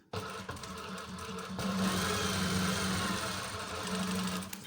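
A sewing machine runs steadily, cross-stitching pleats on a pair of police uniform trousers, a continuous whirring hum that holds for several seconds at moderate loudness, with no voices over it.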